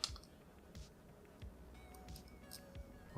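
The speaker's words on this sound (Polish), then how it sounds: "Możemy też potrójnym kliknięciem przycisku Mode skierować telefon do pionu." A few soft, close clicks from the Mode button on an F10 Pro smartphone gimbal, pressed in quick succession over a low, steady background hum.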